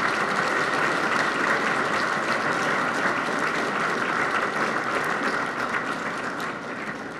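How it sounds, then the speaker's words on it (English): Sustained audience applause at an awards dinner honoring police officers, a dense steady roar of many hands clapping that holds loud throughout and eases slightly near the end. "Let's give them a huge round of applause."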